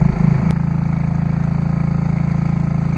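Fishing boats out on South Puget Sound, a steady low engine drone running throughout, fairly loud and close, with a brief sharp click early on.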